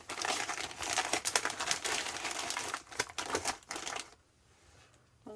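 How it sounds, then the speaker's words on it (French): A parcel of stamp sheets being unpacked: loud, close crinkling and rustling of plastic and paper packaging in quick bursts, then stopping abruptly near the end. "Donc je déballe le deuxième lot"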